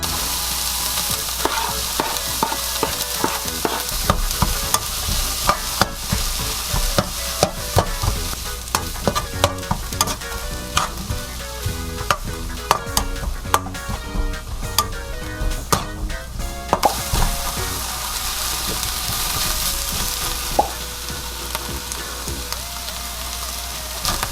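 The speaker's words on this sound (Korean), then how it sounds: "이제 볶아보도록 할게요" Ingredients for a kimchi and chicken breast dish stir-frying in a pan, loud continuous sizzling with rapid clattering spatula strokes and scrapes, close up and unbroken, without talk.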